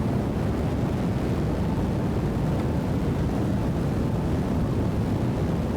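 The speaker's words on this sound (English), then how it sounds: "Liftoff, Gemstone C." A rocket engine lifting off in Kerbal Space Program 2, a loud, steady, broadband roar that holds without a break.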